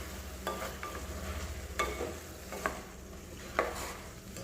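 A spoon stirs turmeric and salt through fish curry in a pan, giving soft scraping strokes with a few sharper clinks against the vessel over a steady low kitchen hum.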